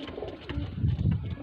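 Close, low pigeon cooing, a few throaty warbling coos rising and falling with no talking.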